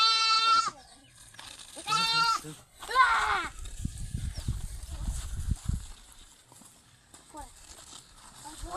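A goat bleats in a few wavering, nasal cries close by, followed by a stretch of low rumbling noise and faint later bleats.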